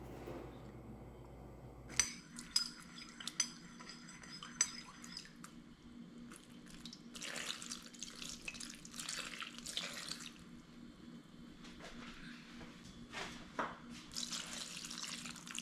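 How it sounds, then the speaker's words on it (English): Seasoned water, salted and peppered, pours into a pan of cabbage rolls in a kitchen, a close splashing trickle that starts abruptly and runs in uneven bursts with brief pauses. "I also pour this water into the pan."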